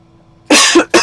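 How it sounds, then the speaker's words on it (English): A man coughs close and loud in two quick bursts, the first harsh and drawn out, over quiet background at a golf tournament's final round. "Excuse my coughing"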